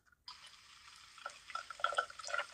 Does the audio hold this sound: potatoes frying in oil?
no